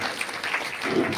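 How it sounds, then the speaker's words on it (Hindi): Audience clapping at a Hindu satsang and kirtan gathering in Kosi, Mathura, a brief, dense, steady burst of many hands. "तालियां तालियां।"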